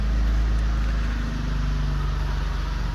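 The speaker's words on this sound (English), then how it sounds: "I don't know whether you can hear the car. It's not a happy camper. It's still running" A car engine idles roughly and unhappily on a low, weak 12.4-volt battery supply, a loud, close, steady low rumble with a faint uneven pulse and no one talking.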